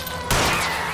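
Gunfire at a fleeing car's tires in L.A. Noire, one sudden loud crack that breaks over engine noise and rings out briefly during a car chase.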